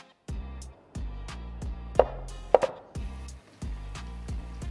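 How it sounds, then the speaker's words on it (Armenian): Steady knife strokes chop bacon on a board, about a dozen sharp thuds in bursts with short pauses and two louder clacks, close and alone, while mushrooms are being fried with onion for a filling. "Կտրտում եմ բեկոնը"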